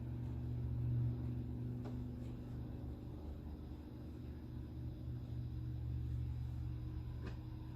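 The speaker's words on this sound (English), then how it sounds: "I can hear trucks going down the road." A low, steady rumble of trucks rolling by on a distant road, with a couple of faint clicks along the way.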